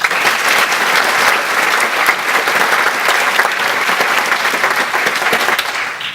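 Steady applause from a large lecture audience, dense clapping that holds evenly for several seconds before starting to taper off.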